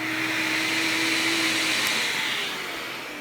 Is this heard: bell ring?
no